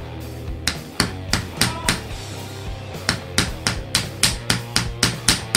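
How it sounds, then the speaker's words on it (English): A hammer taps a plaster block from a Discovery Kids dinosaur excavation kit, giving over a dozen sharp, close knocks in an uneven, quickening rhythm with no talk. "See if you can just hit it with a hammer"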